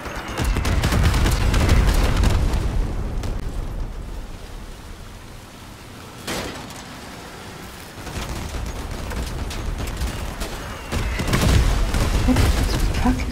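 Gunfire from vehicle combat in Crossout comes as a heavy, rushing barrage, loud at the start, easing through the middle, then swelling again with sharp bursts near the end, with occasional voices over it.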